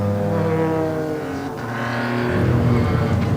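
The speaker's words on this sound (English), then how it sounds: "As you can hear, the safety car's still out on the track" A safety car circulates on the Donington Park race track, its engine a steady, fairly loud drone with a rising, harmonic-rich tone toward the end, no voices over it.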